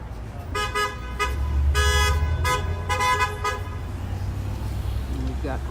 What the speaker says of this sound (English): we've got honks of support